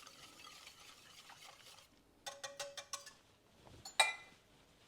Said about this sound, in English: we want to be sure and stir it so the heat will be distributed evenly